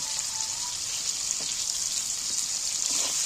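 Potatoes frying in oil in a pan, a steady close hiss and sizzle with faint crackles and pops, continuous and even throughout.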